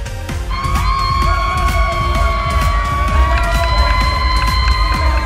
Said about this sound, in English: I can see everyone cheering right now, and it's so much fun